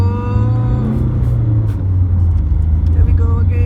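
A 2002 Mercedes-Benz C200 CDI W203 diesel accelerates on the road in India, its engine note rising steadily and loud from inside the car, with faint voices underneath.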